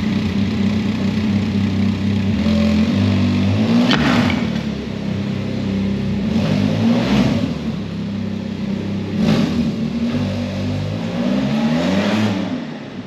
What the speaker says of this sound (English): It's not too loud. It's just like typical like rumbling Akra sound.